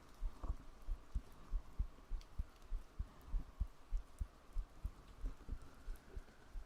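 A heartbeat thumps softly and evenly in a quiet, close-up binaural ASMR setting, a steady double-pulse rhythm repeating throughout with no voice over it.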